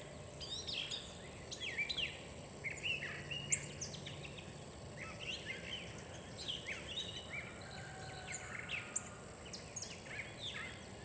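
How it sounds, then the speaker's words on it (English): Birds sing and chirp outdoors in a quiet setting, scattered calls repeating across the span over a constant high insect drone and soft background hush, fairly distant and faint, with no talking. "the birds are singing the pretty music today."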